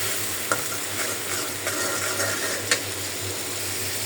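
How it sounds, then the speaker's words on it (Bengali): Spice paste stirred and fried in a pan, a steady close sizzle with occasional scraping taps of the spoon against the pan, no voices. "মশলাটা একটু কষাই"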